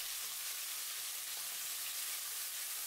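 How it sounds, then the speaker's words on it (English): Chilli and garlic paste sizzles in hot vegetable oil in a pan over high heat, a steady, fairly close hiss and crackle of frying with no talk. "When the oil is hot, add the paste of the peppers and garlic."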